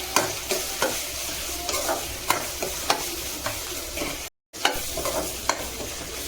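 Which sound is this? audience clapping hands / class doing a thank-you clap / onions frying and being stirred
onions frying and being stirred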